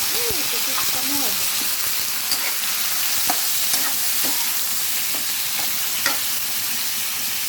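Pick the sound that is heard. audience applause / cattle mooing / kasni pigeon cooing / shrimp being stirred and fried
shrimp being stirred and fried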